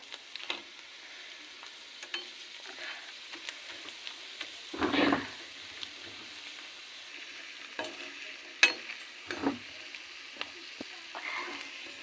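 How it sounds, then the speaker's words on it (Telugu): Sun-dried fritters frying in oil in a kadai: a soft, continuous sizzle with occasional louder bubbling bursts and pops, close but fairly quiet, with no talking. "ఇక నూనె పోసిన కడాయిలో ఇక వేస్తాం"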